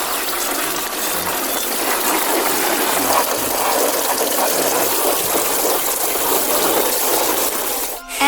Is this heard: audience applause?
no